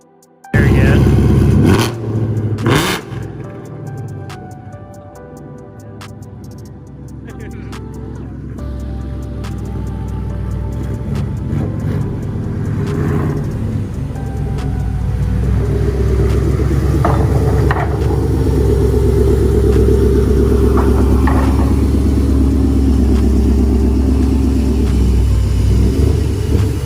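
Revving car exhaust right after a fresh install at a muffler shop, on one of a group of cars including a 5.0, a Camry and a Focus SVT; a loud, close, steady rumble builds and holds with rising revs, with brief talk nearby.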